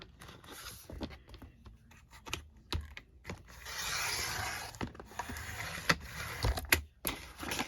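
Paper being cut for a journal cover: quiet scissor snips and rustling paper, intermittent clicks and a longer scraping cut, close and soft.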